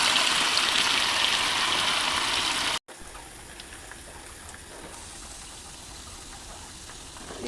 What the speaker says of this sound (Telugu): కడాయి పెట్టుకొని దీనిలో శనగ నూనె పోసుకోవాలి. 1 కప్పు హీట్ ఎక్కిందండి. మనం కొంచెం కొంచెంగా చికెన్ని వేసుకొని